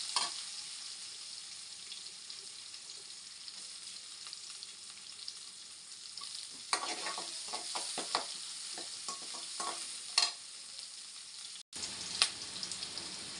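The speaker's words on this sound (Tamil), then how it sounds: "இப்போ வெங்காயம் சேர்த்துக்கலாம். வெங்காயம் நல்லா வதங்கட்டும்." Onions sautéing in a pan after fennel seeds have crackled in the oil, a steady soft sizzle with bursts of stirring and scraping in the middle, close and with no voices.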